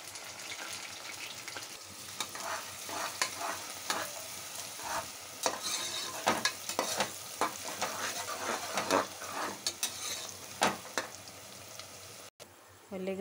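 Chopped onions frying in hot oil in a kadai, a continuous close sizzle broken by scraping stirs and occasional metallic clinks of a spoon against the pan.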